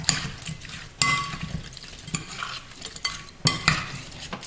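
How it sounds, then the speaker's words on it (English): Shrimp stirred in a pan to coat them in Haitian spice for coconut curry shrimp, repeated close scraping strokes of a utensil at an uneven rhythm over a light sizzle, with no voices. "Just kind of mix it around, make sure every piece of shrimp is coated with that."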